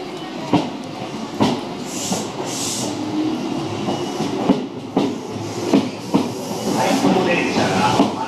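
A Tobu 8000 series out-of-service train pulls away from Kasukabe station, its wheels beating a regular clickety-clack over rail joints with rising rumble, close by on the platform while station announcements play.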